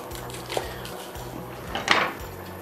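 A knife cuts through pak choi, giving two distinct sharp chops against a quiet background hum.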